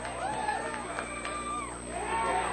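A crowd at a wrestling match cheers and shouts steadily through the brief moment, a broad arena roar with whoops rising near the end and voices calling out within it.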